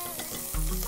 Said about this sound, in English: coconut oil, and into that we're popping our shallots, which I'm using onions, ginger